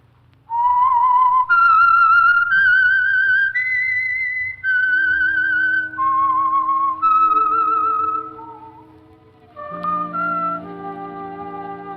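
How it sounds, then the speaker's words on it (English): A clear, solo whistled tune, the eerie theme signal of The Whistler radio program, rises and falls in long sustained notes, joined toward the end by lower orchestral tones from the old broadcast. "That whistle is your signal for the Signal Oil program, The Whistler."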